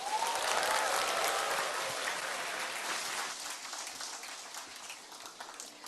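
An audience in a seminar hall applauds after a lecture, with dense clapping at first that gradually thins and fades over several seconds.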